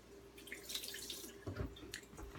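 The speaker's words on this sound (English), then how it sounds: "now I gotta wash my hands" Hands being washed under a running kitchen tap after pitting dates for homemade almond milk: faint splashing and trickling water, with a few soft drips and clunks near the end.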